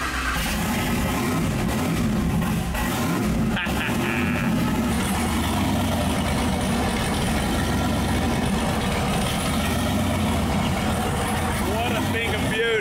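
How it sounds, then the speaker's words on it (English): Turbocharged Cummins diesel engine swapped into a Barracuda, running with no muffler, a steady loud rumbling drone close by, while people talk over it. "it's so much quieter with that turbocharger"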